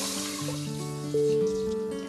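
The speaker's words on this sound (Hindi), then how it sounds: "जैसे ही जीरे में तड़का लग गया है, हम इसमें डाल दे रहे हैं 4 ग्लास पानी" Water from a glass pours into a hot pot of tempered cumin for jeera rice, a soft, steady pouring and trickling heard close up for about two seconds with no talking.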